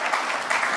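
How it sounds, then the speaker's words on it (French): Brief burst of audience applause at a recycling school event, many hands clapping together in a short, bright wash of sound. "Sous vos applaudissements,"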